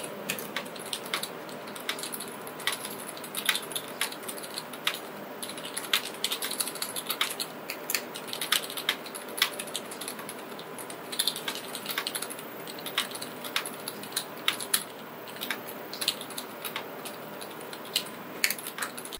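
Someone types on a custom mechanical keyboard fitted with GMK Plum keycaps, making a steady, close clatter of keystrokes with uneven bursts and brief pauses, and no voices.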